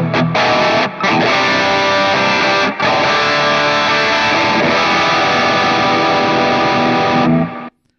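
Heavily distorted electric guitar through an HX Stomp, with a RAT distortion pedal stacked on overdrive and reverb, strums loud, dense chords with two brief gaps, then cuts off abruptly near the end.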